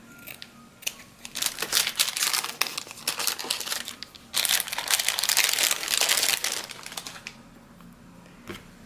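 Green lace ribbon from a spool is cut with scissors to a short piece, giving crinkly snipping and rustling in two close, busy bursts with brief quiet between, no voices.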